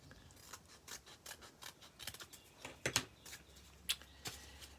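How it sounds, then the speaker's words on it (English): Scissors snip through folded paper while cutting a V shape into a paper chain, a quiet close-up series of short crisp cuts in an uneven rhythm, growing slightly louder toward the end. "I'm going to move down and cut out the V."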